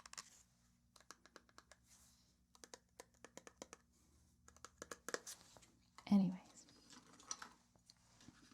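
A thumb runs over a serrated, bumpy lid, giving quick soft clicking ticks in short runs, close and quiet, with a brief whispered voice partway through.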